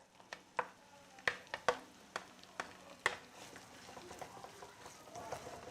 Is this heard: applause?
no